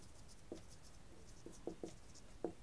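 Pen writing on paper during a maths lesson, faint close scratches and scattered light taps in an irregular rhythm over a quiet background.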